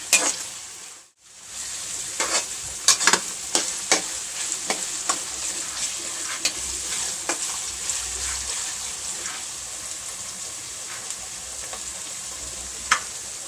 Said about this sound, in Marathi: कांदा चांगला फ्राय झाला आहे